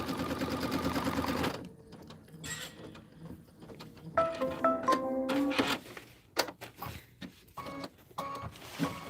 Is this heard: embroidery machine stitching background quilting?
yes